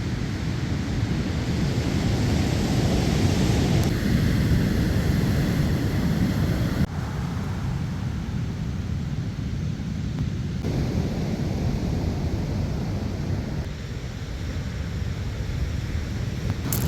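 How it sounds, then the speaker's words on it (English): Rough, violent surf at Rialto Beach on the Washington coast, a continuous broad roar of crashing waves with surging swells and gusts of wind buffeting the microphone, no voices. "Man, the waves here look violent."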